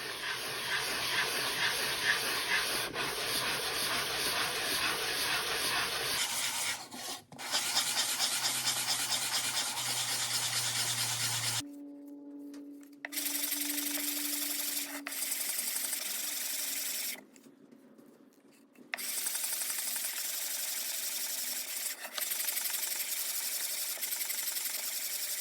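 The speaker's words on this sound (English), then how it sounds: "now we're going to use our sanding board again to even up the bottom" Steady rasping and scraping of a wooden box bottom rubbed against a sanding board, continuing in long strokes with brief pauses, close and fairly loud.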